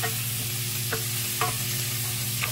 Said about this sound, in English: We're just going to add it to the pan and mix it around there